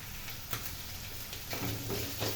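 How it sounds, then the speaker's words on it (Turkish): Steady sizzling from a hot pan of chicken liver, onions and peppers frying, with occasional stirring scrapes, close up with no talking. "Bu şekil biraz da soğan, biber, ciğerleri beraber kavuracağım."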